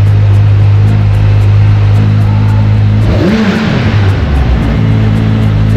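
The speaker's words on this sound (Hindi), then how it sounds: "कसम से यार, कावासाकी की साउंड तो है।" A Kawasaki Ninja ZX-10R sport motorcycle engine roaring loudly and steadily at close range, with a sharp rev surge partway through, no talk over it.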